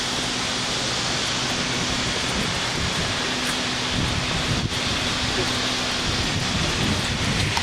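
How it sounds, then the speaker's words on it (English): Rain beginning to fall outdoors on a salt island in Poland, a dense steady hiss mixed with wind buffeting the microphone, continuous and fairly loud with no clear voices. "Starting to rain."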